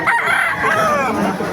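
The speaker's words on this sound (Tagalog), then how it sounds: "Ganda ng mga manok dito mga kamaster." A rooster at a Bocaue, Bulacan chicken market crows once in a clear, drawn-out call, fairly close, with faint market bustle beneath it.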